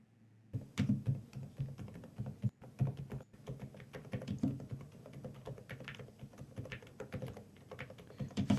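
A clicky computer keyboard is typed on up close, with quick irregular bursts of sharp key clicks and thunks, fairly quiet, with short pauses between runs.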